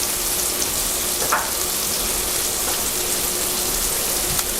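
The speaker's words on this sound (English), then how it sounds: "You're gonna let this saute for about 5 minutes." Vegetables sauté in a hot pan with a steady, close crackling sizzle, like light rain, broken by a couple of faint stirring sounds and no talking.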